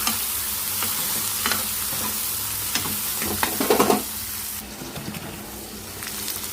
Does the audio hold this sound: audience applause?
no